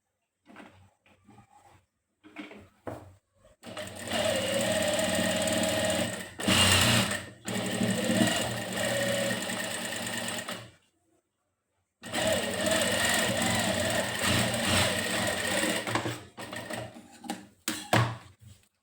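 A sewing machine stitches the edge of a shirt in several long, rapid runs, with short pauses and a few lighter taps of handling between bursts. No voices are heard.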